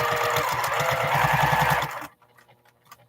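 Sewing machine stitching a 1/4 inch seam on a quilt block, a fast even chatter of the needle running loud and close for about two seconds before stopping, leaving faint handling noises.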